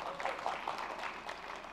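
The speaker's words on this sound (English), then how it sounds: "If I pause, then you will applaud" Audience applause at a Microsoft Build 2016 conference talk: a steady, dense patter of many hands clapping at once, filling the whole short moment without pause.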